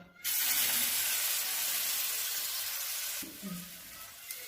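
Potato and gram flour batter hits a hot oiled griddle and sets off a sudden, loud, broad sizzle. The sizzle holds steady for about three seconds, then drops to a quieter crackle, with no talk.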